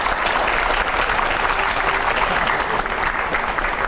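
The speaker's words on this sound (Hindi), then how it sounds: "पहले जोरदार तालियां होनी चाहिए।" Loud, dense applause from a studio audience at a televised political interview, a steady wash of clapping that holds for the whole stretch with no voices.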